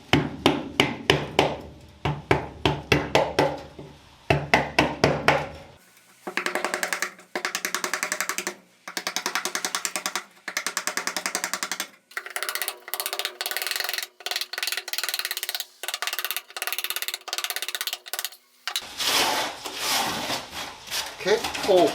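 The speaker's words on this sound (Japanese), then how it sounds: "まずは鉄板の錆びの状態チェックするためにメルシートを剥がしていきます" A hardened, roughly 1 mm petroleum-based sound-deadening sheet is chipped and scraped off the rusty trunk steel of a Mazda RX-7 FD3S. Close, intermittent bursts of scraping, cracking and knocking repeat, with occasional voices.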